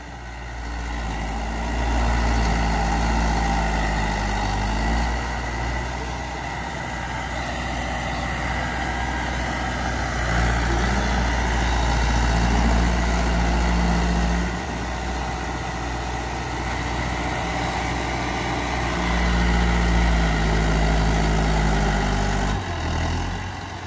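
A Mahindra 275 DI tractor engine idles steadily with a deep, low rumble that stays loud throughout, rising and dipping slightly in a few spots.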